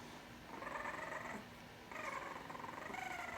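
A young bulldog puppy makes low, rumbling growl-like noises in two bursts with a short pause between them, close up and fairly quiet.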